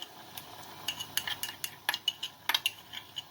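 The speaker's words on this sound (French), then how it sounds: "Je vais mélanger, ça va faire une pâte." A spoon stirs tomato paste into veal Marengo in a pot, making quiet, irregular scraping clinks and taps against the pot's side with no talk over them.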